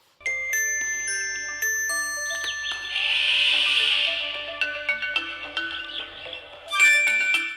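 A phone rings with a melodic, chiming ringtone of repeated tonal notes that plays for several seconds, loud and without talk over it, in a Hindi-dubbed South Indian action film.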